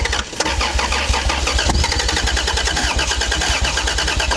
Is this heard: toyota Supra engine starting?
yes